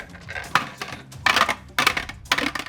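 Dice for a Pathfinder tabletop game rattle and clatter in a few quick bursts of tumbling, clicking impacts, close by and with no talking over them.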